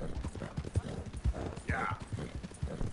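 Horse hooves clip-clop in a steady walking rhythm in a video game, close and clear, with a brief whinny partway through and a voice talking over it.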